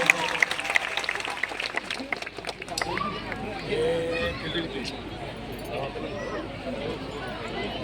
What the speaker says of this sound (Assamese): ডাঙৰকৈ হাত চাপৰি হ'ব লাগে